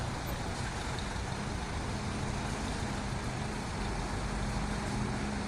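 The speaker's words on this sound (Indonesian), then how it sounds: "kita lepas nih keluarnya bus Putra Pelangi ya" A Putra Pelangi intercity bus pulls out of a bus terminal, its engine a steady, loud diesel rumble with broadband road and exhaust noise, no voices.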